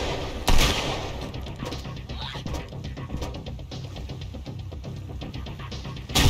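Gunfire in the survival video game Sunkenland during a nighttime attack: a sharp shot opens, then a low throbbing hum with faint scattered pops continues, and another shot lands at the end.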